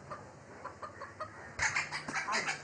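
A featherless hen clucks in a series of soft, short calls close by, growing a little louder and busier toward the end over a quiet background.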